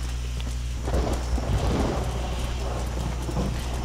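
A horse gallops in the video game Red Dead Redemption, its hooves drumming in a quick, continuous rhythm over a dense, rumbling background that stays loud throughout.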